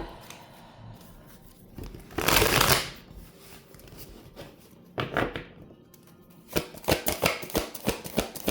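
Tarot cards are riffled and shuffled close by in short papery bursts, followed by a run of rapid flicking and snapping as the deck is handled and cut.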